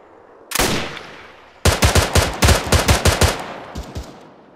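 Automatic rifle fire in the Arma 3 military shooter: one burst, a short pause, then a long run of rapid, evenly spaced loud shots and a final couple of rounds, close and dominant with no voices.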